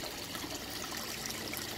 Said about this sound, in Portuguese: Pra essa água cair um pouco mais aqui pro centro da caixa.